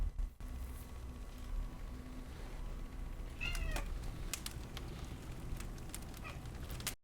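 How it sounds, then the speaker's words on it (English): A house cat meows once, a short wavering call in the middle, heard faintly over a quiet room hum and soft clicks. "Please ignore my cat."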